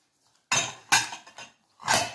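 Four eggs being mixed in a bowl for semolina harcha, three distinct bursts of clinking and scraping against the bowl separated by short silences, close and fairly loud.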